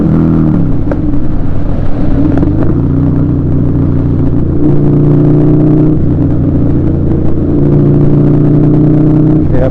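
Loud motorcycle engine on a group ride, a close, continuous throaty drone with shifting tones as the rider changes speed.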